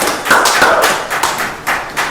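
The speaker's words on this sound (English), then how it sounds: "Another round of applause." A crowd applauds steadily, dense clapping from many hands filling the space, with a few louder swells near the end.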